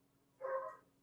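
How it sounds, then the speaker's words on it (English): A dog gives one short, faint bark at a cat, a single clipped yelp lasting under half a second over quiet background. "that dog just barked at my cat."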